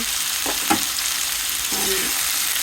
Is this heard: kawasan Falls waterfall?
no